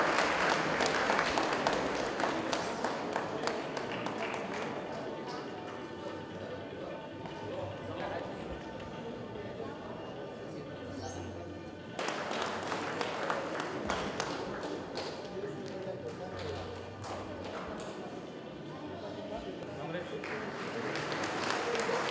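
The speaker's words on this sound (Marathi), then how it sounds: "टाळ्या वाजल्या तर चालेल" Applause from an audience at a cooperative credit society's annual general meeting: sustained, dense clapping that runs steadily throughout, with a brief dip near the middle before swelling again.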